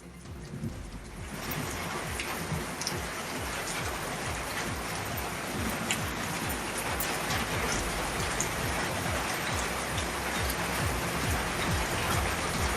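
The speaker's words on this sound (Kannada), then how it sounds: "ಹಾವೇರಿ ಜಿಲ್ಲೆಯ ಹಲವೆಡೆ ಆಲಿಕಲ್ಲು ಸಹಿತ ಮಳೆಯಾಗಿದೆ." Heavy rain in a thunderstorm with hail in Haveri district, Karnataka, a dense steady patter and hiss of drops on surfaces, close and continuous, with no voices.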